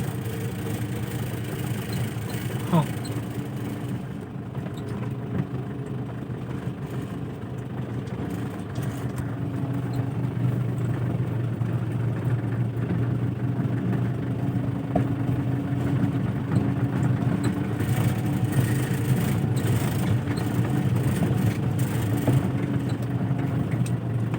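A car engine idles in a steady, continuous low hum for the whole stretch, close and unbroken, with only slight shifts in level.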